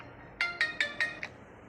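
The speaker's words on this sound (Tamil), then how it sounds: "ஃபோன் வந்துடுச்சு கைஸ்" A phone ringtone announcing an incoming call: five evenly spaced bright tonal pulses, each about a fifth of a second apart, fairly close and clear over a quiet background, with no talking.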